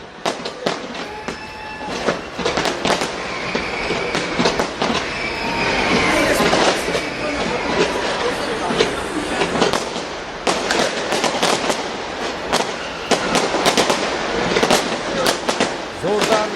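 New Year fireworks display in Auckland, New Zealand, heard from a distance: dense, continuous crackling and popping bursts with rumbling booms, a crowd's voices and a commentator's speech mixed underneath.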